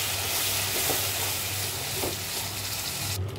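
Coriander paste being stirred into sizzling spinach in a frying pan for palak paneer, a loud close steady sizzle with scraping stirring strokes, no talking.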